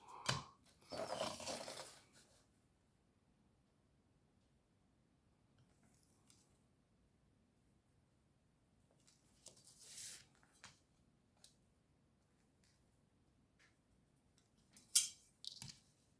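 Scissors cut card squares for handmade card making, heard as a few short, close snips and paper rustles spread over mostly quiet stretches, with a sharp cut near the end.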